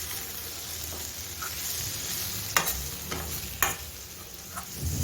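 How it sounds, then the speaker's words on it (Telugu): Cauliflower pepper fry tossed with ground spice powder in a hot pan: a steady close sizzle broken by a few sharp spatula scrapes and clanks against the metal. "ఈ పౌడర్ మొత్తం ఫ్రైకి పట్టే విధంగా కలుపుకోవాలి."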